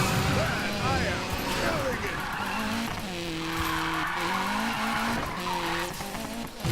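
A Mazda Miata with a big rear wing drifts in Need for Speed Payback, its engine revving and tires squealing in long sliding waves, with a person talking over the game audio.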